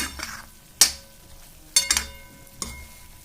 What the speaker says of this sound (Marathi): तर वांगे फ्राय झालेले आहेत